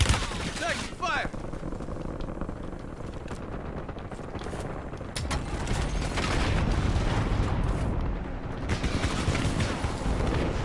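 Gunfire erupts in Call of Duty Black Ops 6 Warzone, a dense run of close shots and bursts that thickens in the second half, with speech over parts of it.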